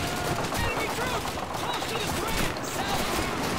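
Rapid sniper rifle fire in Call of Duty 2 rattles as a dense, continuous stream of sharp shots amid battlefield noise, with a voice talking over it.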